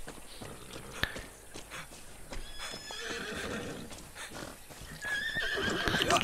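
A horse in the video game Far Cry 6 neighs and whinnies loudly and repeatedly while its hooves clip-clop nearby, with a sharp knock early on.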